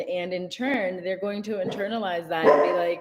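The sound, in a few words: dog barking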